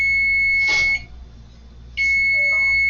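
Oven timer beeping in a home kitchen during banana bread baking, two sharp electronic beeps separated by a short pause, loud and close with no talking.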